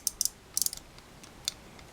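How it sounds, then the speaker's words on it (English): Small plastic ratcheting clicks come from the knee joint of an SRC Mazinkaiser SKL action figure as it bends, in short sharp bursts of two to four clicks, quiet and close, with no talking. "Get that little ratcheting sound again on the bottom part."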